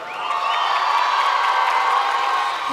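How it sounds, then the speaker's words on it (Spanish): An audience at a folk song competition bursts into sustained applause, cheers and whoops for a Peruvian singer, a loud, dense, even wash of clapping and shouting that holds for a few seconds. "regalarle un último aplauso"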